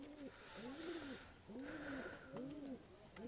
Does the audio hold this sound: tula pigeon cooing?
yes